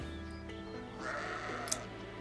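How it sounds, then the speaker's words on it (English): A sheep bleats in the video game Fire Emblem Engage, a single mid-loud call over steady game music with a brief sharp blip near the end. "We can also adopt this sheep thing."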